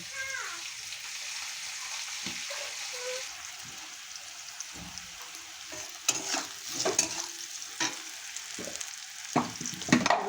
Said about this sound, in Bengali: গাজর মটরশুঁটি ভাজা হয়ে গেছে